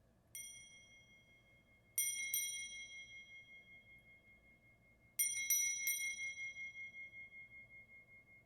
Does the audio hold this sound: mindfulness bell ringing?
yes